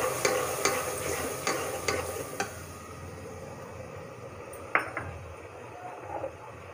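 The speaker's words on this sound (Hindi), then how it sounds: "देखिए हमारा मसाला अच्छे तरीके से भुना गया है।" Onion paste with coriander and chili powder frying in a pan, a soft sizzle under a quick run of sharp spoon-on-pan clinks at the start, then quieter steady frying with one more clink.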